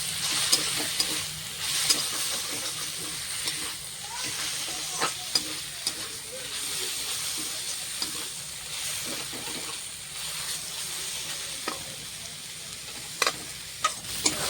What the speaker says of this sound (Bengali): শাকের মধ্যে আমি ধনেপাতা দেবো, ভালো করে নেড়ে চেড়ে শাকটা নামিয়ে নেবো।